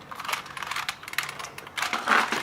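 Close, clicky keystrokes on a 1992 IBM Model M buckling spring keyboard, an irregular run of sharp clacks over a low background hiss.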